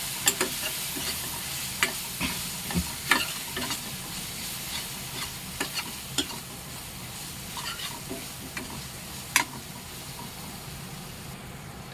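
Garlic paste is stirred into cooked tomatoes and chilies for a Kathiyawadi peanut bhajiya curry, giving a continuous close sizzle over a low hiss, with irregular scraping knocks of the spoon against the pan.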